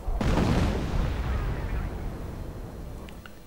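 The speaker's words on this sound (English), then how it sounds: "And more artillery flying through the air." Heavy artillery fire in a WWII strategy video game, a loud booming impact at the start that rolls into a long, slowly fading rumble.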